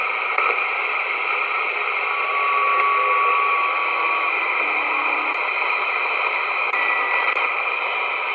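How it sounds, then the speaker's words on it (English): Constant band-limited static hisses steadily from a 1977 President Uniden Grant CB radio, with faint tonal whines and a few brief clicks, no voices coming through. "I actually like the noise of this radio."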